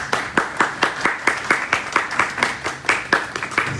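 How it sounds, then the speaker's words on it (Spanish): An audience at an academic workshop on writing scientific articles claps in a brisk, rhythmic burst of applause, fairly close and steady for several seconds without speech. "Fuertes los aplausos."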